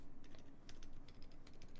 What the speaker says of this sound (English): It's just like the sound of the switch and whatnot.